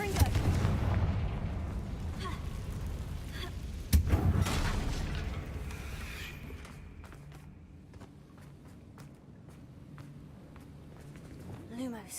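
Fiery Confringo spell blasts in Hogwarts Legacy, a heavy booming rumble from the start with a sharp loud explosion near four seconds, then fading into quieter scattered impacts while a voice talks over the game.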